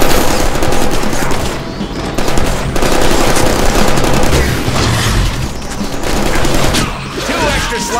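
Rapid, continuous bursts of heavy gunfire from the Sentinel Arm Cannon in the Deadpool video game, dense and loud throughout with booming impacts layered over a busy game soundscape.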